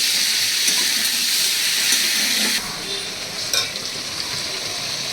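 Onion, ginger-garlic paste and tomato fry in a pan with a continuous bright sizzle and hiss, close and steady, with a little stirring.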